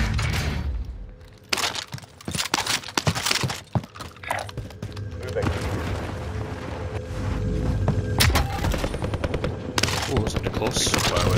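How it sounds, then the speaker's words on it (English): Bursts of rapid gunfire crackle nearby, repeated volleys and single cracks over a steady rumbling background, continuing throughout. "There's gunfire close by us"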